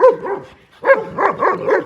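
A small dog barks in two quick bursts, a pause, then a run of four sharp, close yaps in a steady rhythm in a village yard.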